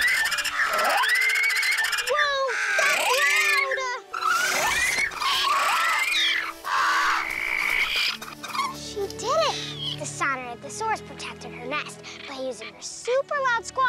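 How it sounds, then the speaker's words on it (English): Loud, shrill dinosaur-style squawks from a Sinodontosaurus defending its eggs against a Troodon, repeated calls rising and falling in pitch, close and continuous across the scene with layered animal cries and a low rumble in the second half. "Super loud squawks to force the Troodon to leave."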